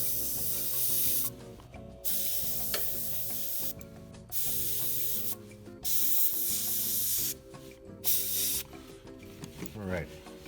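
Airbrush hissing as paint is sprayed onto a 28mm A15 Crusader model tank, in several short bursts separated by pauses, with background music and a voice speaking between sprays.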